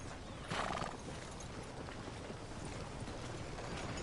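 Horse in the Red Dead Redemption 2 game clip-clopping steadily at a run with a neigh near the start, against a constant windy background.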